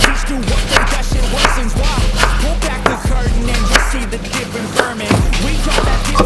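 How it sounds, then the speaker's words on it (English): A knife chopping a medium-sized tomato into small dice on a board, with a steady series of close, sharp knocks and no voices. "Cut up the tomato into some small"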